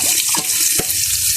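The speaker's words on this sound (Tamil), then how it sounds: "எண்ணெய் கொதிச்சுட்டு நாங்கள் வெட்டி வச்ச வெங்காயத்தை போடுவோம்." Small onions sizzle steadily in hot oil close up, a constant crackling hiss with faint pops, while cooking spicy chicken soup.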